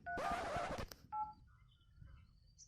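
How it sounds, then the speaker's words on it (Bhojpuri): A phone number being dialed gives a short burst of keypad tones followed by a brief second tone, then near silence. "ओ रुक, टीपुआ के पास हम फोन कर दें।"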